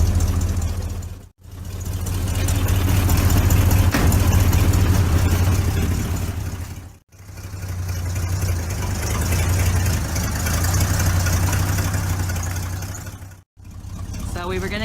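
A 1953 1.5-ton truck engine runs and pulls forward in first gear, a steady low rumbling drone with knocking texture, cutting out briefly twice, close and loud.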